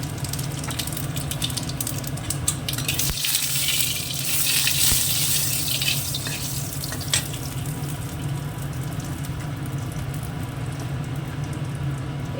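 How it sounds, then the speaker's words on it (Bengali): Dried red chilli and cumin sizzle in hot oil in a wok, a loud, continuous hiss that swells briefly midway and then stays steady and close throughout, with no talking. "তেলটা গরম হয়ে গেছে দিয়ে দিলাম শুকনো লঙ্কা দিয়ে দেবো জিরে"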